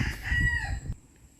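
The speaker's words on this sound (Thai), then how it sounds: "ไก่แจ้สวยงาม" A close bantam rooster crow with clucking calls, loud and brief, cutting off abruptly into quiet, at a rural garden home.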